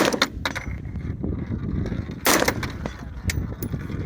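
Rifle shots fired with Murom small rifle magnum primers crack out in a quick irregular string, several sharp loud reports, one standing out as especially hard and bright, over a gritty background.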